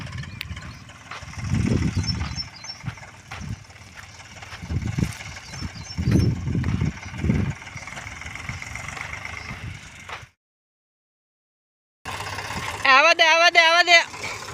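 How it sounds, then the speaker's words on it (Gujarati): A tractor engine slowly pulls up a slight slope in a field, a low rumbling drone that surges in heavy bursts while people talk nearby, then cuts out briefly before returning loudly with a rising mechanical whine. "ધીમે ધીમે ટ્રેક્ટર ચડાવે છે ને થોડોક ઢાળ જેવું છે"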